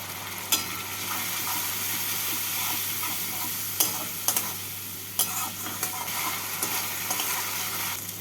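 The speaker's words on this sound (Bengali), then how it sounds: "রসুন বাটা দিচ্ছি এক স্পুন জিরে গুঁড়ো অল্প জল দিয়ে মশলাটাকে কষিয়ে নেব" Garlic paste and ground cumin masala cooking with a little water in a pan, a steady soft sizzle with scattered stirring scrapes and clicks from a spoon, close and continuous without talk.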